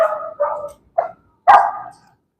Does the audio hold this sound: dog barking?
yes